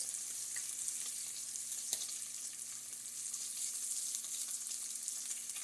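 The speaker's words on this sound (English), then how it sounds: "So you want to fry your bacon" Bacon frying in a pan on a stove top, a steady, close, unbroken crackle and hiss with faint scattered pops and no talking.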